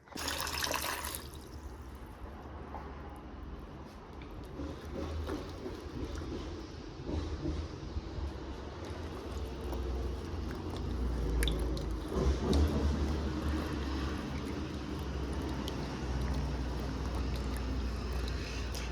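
Star gooseberries being washed in water while preparing a Jamaican stew: a steady, close rush of running water with soft squishing and sloshing throughout, no voices.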